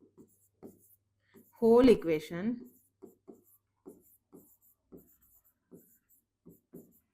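A pen makes short, scratchy strokes on paper while an algebra equation is written out. The soft taps repeat at a steady pace, with a brief spoken word partway through.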